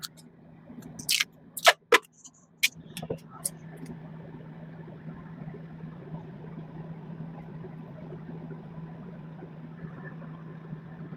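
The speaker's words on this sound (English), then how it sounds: "Compressor just kicked on." A few clicks and knocks, then a portable air conditioner's compressor kicks on and settles into a steady low mechanical hum with a faint tonal whine, running continuously at moderate volume.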